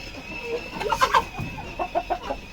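Brahma chickens on a farm cluck in short bursts at close range, several soft calls scattered over a faint steady background hum.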